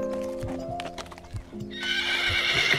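A horse neighs loudly at close range over the steady clip-clop of its hooves, and the whinny rises toward the end of the short burst.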